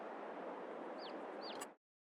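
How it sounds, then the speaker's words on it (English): Chickens at a coop in Farming Simulator 22, a dense continuous flock clucking with a couple of brief higher chirps, steady and moderately close until it cuts off abruptly. "Then we have our chicken coop."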